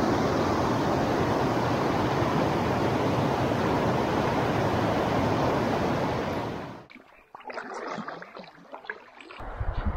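Roaring river rapids on the far, rockier side of Taivalkenkä in Oulanka, Finland, heard as a dense, loud, steady rush of whitewater. It falls away after about seven seconds, leaving quieter water splashes.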